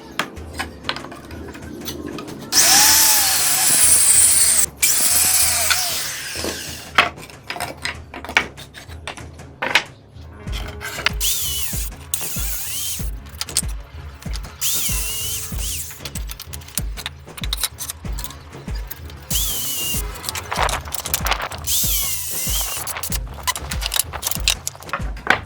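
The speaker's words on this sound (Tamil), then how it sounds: "இந்த மாதிரி டூல்ஸை வச்சோ இல்லைன்னா ஆக்ஸர் பிளேடு வச்சோ க்ளீனாக கட் பண்ணிக்கோங்க." Pipe pieces being cut with a hacksaw blade, loud rasping strokes in a steady back-and-forth rhythm, close up with clicks and knocks between strokes.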